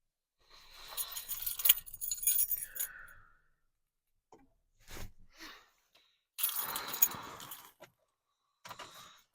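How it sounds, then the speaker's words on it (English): Keys to a 2005 Mercury Grand Marquis GS jangle in bursts of bright metallic clinking, with a couple of separate rattling episodes and short pauses, close by with no talking. "I have the keys."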